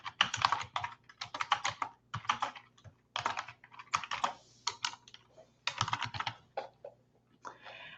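Bursts of rapid clicking keystrokes on a computer keyboard as a file name is typed, in several quick clusters separated by short pauses, close and clear with no talk.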